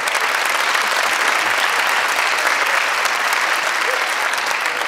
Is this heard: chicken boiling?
no